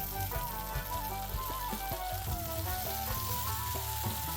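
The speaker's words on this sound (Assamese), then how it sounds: "অকমান দেৰি পিয়াজখিনি ভাজিব" Onions frying in a pan with a soft, steady sizzle, faint beneath a louder tonal background hum.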